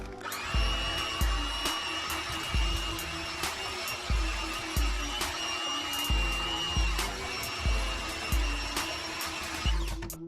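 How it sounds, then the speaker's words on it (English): An electric stand mixer runs steadily while eggs go into cookie batter, a continuous motor whine under a repeating low thumping rhythm from the beaters, with no speech. "add in the eggs one at a time with the mixer running"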